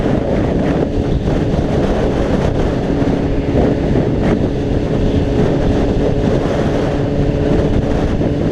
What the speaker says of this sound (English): Just letting the wind take you as it needs.